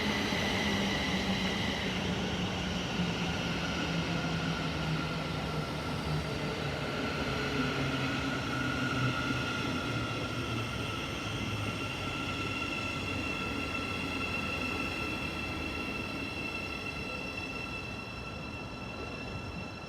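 Class 700 electric train departing Stevenage station on the East Coast Main Line, running from London King's Cross to Cambridge; a steady, fairly loud rolling rumble with rising motor whine and tonal hums, sustained for the whole span without talk.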